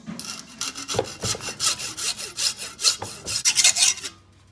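A cured epoxy-filled cap is sawn apart by hand, a close rhythmic rasping of back-and-forth strokes that stops near the end.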